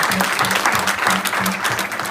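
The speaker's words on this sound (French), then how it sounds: "Soit applaudissement pour la gloire de Dieu." A church congregation claps steadily and densely for the whole stretch, with a faint rhythmic pulse running underneath the applause.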